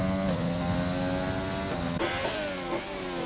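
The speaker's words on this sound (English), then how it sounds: "Both McLaren's out on track." McLaren race cars run on track at Spain in a racing video game, a loud continuous high-revving engine whine that rises in pitch and drops sharply with gear changes.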